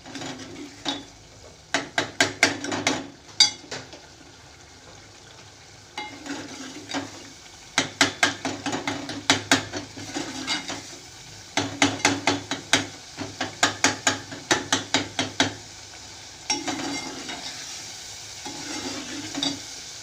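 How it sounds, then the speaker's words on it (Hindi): Tomatoes for a matar keema are mashed and fried in a pan with a spoon, giving bursts of rapid rhythmic scraping and tapping strokes over a steady sizzle, loud and close, with no talking. "टमाटर सॉफ्ट हो गए और मैं इसको अच्छी तरह से चमचे से मैश करके बिल्कुल इसको भून लूँगी।"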